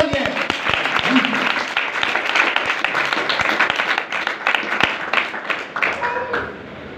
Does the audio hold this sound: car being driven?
no